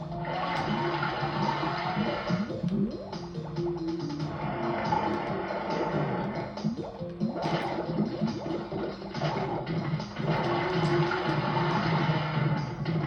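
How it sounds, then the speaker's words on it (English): Rushing water in the video game Crash Bandicoot Warped, a steady flowing surge with rhythmic swells, fairly quiet and continuous for over ten seconds with no talk. "let's wait for the water to die down"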